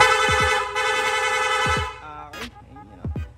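An aftermarket PIAA motorcycle horn on a Sniper 155 blares in a sustained loud tone, cut by short clicks, then stops, followed by a few quick rapid-horn honks and clicks.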